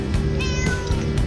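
A cat meows in a single rising and falling call, close and clear over a steady low background hum, with no talking.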